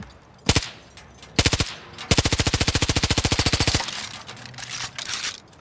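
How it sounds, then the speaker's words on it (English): A submachine gun fires in the video game Far Cry New Dawn: two short loud bursts, then a long rapid stream of shots lasting about two seconds, then quieter residual noise. "It's like an SMG."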